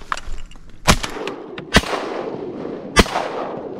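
Shotguns fire during a walk-in teal duck hunt on public land in Louisiana: three loud, sharp blasts spaced about a second apart, close by, over faint outdoor background.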